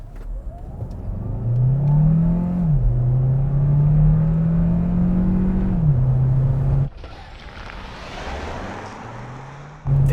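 A 2022 Hyundai Tucson hybrid with a 1.6-liter turbo engine launches without launch control, its engine droning loud and close as it climbs through a gear change, then easing after a shift to a softer whir.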